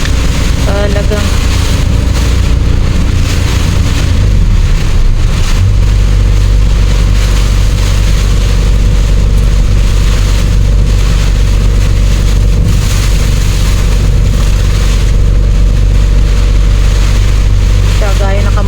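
Typhoon Kristine wind and heavy rain roar continuously over people caught out on the road. The loud, deep, droning rush sounds almost like an engine, and a person speaks under it.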